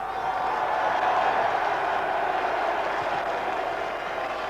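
A capacity crowd of 8,000 at a football stadium for an FA Cup third-round tie between Sutton United and Coventry applauds and cheers in a steady, distant wash of noise.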